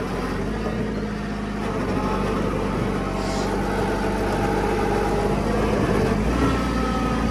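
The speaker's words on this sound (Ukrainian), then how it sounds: "Тракторець розвертається." A Kubota GT-5 mini tractor's engine chugs along steadily as the machine turns, producing a low, continuous mechanical drone at close range with no speech over it.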